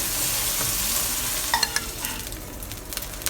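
Scallops sear in hot oil in a pan with a dense, close hiss of frying, followed by a few quick sharp pops and light clicks as it settles slightly.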